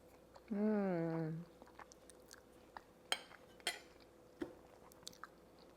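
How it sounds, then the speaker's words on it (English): Crispy baked phyllo pasturma pie being eaten: after a short voiced sound near the start, a series of sharp, close crunches and crackles as the pastry is bitten, spaced irregularly across the remaining seconds. "When you cut into it, you definitely want to hear that crispy sound. That's how you know the phyllo has cooked perfectly."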